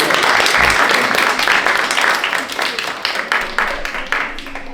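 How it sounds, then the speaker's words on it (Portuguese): An audience at a final group presentation breaks into dense, steady applause that stays loud at first and then thins gradually toward the end. "Uma salva de palmas à vida."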